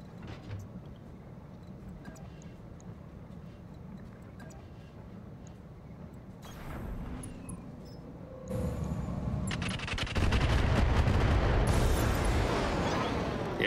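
Mech alpha strike in a modded BattleTech game (RogueTech), a rumbling barrage of weapons fire with bursts and sharp cracks building into louder, dense booms toward the end, no talk.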